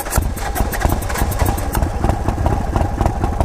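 A motorcycle engine just fired up from a cold start runs close by with a loud, choppy, uneven idle of rapid pulsing beats, continuous through the clip.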